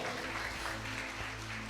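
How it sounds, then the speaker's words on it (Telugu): Applause from a church congregation during a sermon, a dense steady patter of many hands clapping at moderate volume with no talk over it. "గట్టిగా చప్పట్లు కొట్టాలా, గట్టిగా చప్పట్లు."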